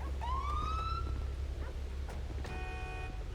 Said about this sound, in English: go ahead and turn your sirens on.